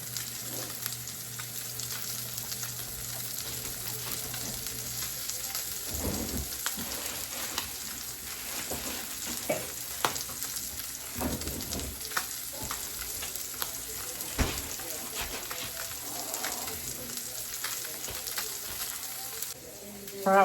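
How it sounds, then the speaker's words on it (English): Meat searing in a hot pan, a continuous crackling sizzle with scattered pops and occasional clinks of utensils, fairly quiet and steady for the whole stretch without talk. "So let me just let this sear here, and then I'm gonna put this in the oven."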